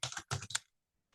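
Typing on a computer keyboard while entering contact details into transaction software produces three quick, close bursts of key clicks, then silence and a faint final tap.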